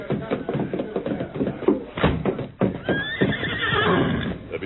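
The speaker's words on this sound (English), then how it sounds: "Me bring horses round back." Horses stamp and shift close by, hooves knocking in an uneven rhythm, before one horse lets out a long, loud neigh that rises over the shuffling in the second half.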